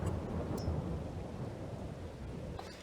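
Steady rain hiss with a low rumble of rolling thunder in Farming Simulator 22, a continuous storm wash with a couple of faint distant crackles, no voices.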